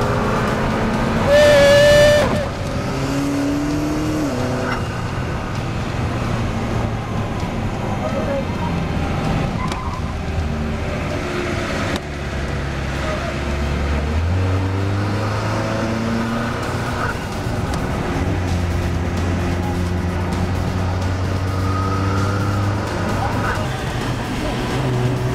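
Turbocharged McLaren driving on a track, its engine droning steadily with shifting pitch, heard from inside the car beneath wind and road noise while people talk.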